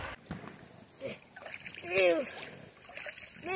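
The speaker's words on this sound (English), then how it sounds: "we're headed straight into some rapids" River rapids splash against a raft carrying a family, bursts of splashing and sloshing water up close, mixed with excited voices talking and one loud shriek in the middle.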